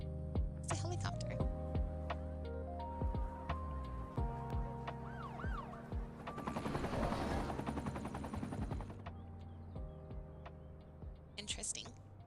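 A helicopter in the city-building game Cities: Skylines II, a rhythmic rotor chop running beneath layered game music and sounds, with a siren-like warble and dense clatter rising in the middle before fading.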